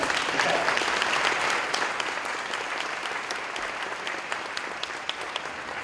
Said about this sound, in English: Folks, how about another round of applause for